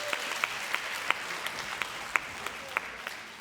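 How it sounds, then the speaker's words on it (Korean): A church youth group in Gunsan claps in encouragement, a soft, distant wash of applause with a few sharper individual claps standing out at an uneven rhythm. "우리 큰 격려의 박수."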